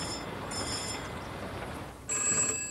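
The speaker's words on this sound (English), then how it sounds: "Answer that phone, Thomas." An old-fashioned telephone bell ringing indoors, in a 1990 British drama; two bursts of bright, high jangling separated by a short gap, the second louder, with no speech.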